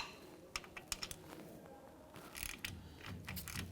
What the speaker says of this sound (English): Now what I'm going to do is come back with a regular ratchet, and I just want to make sure those are snug but not super tight